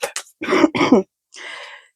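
A few sharp coughs followed by a longer, raspy throat clearing, close and loud with no talking.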